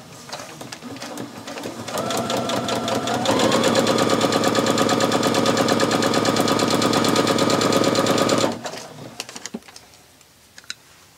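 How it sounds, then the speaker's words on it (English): A sewing machine stitches through triangle paper in a close, rapid mechanical rattle. It starts at a moderate pace, then speeds into a steady run for about five seconds before stopping abruptly, followed by a few faint clicks. "So I'm just gonna put this underneath the sewing machine."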